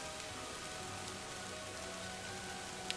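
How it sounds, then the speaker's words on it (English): Raindrops patter on leaves on a rainy night, a soft, even hiss of steady rainfall with faint scattered drop ticks, quiet and continuous with no voices. "the sound of raindrops hitting the leaves is so soothing"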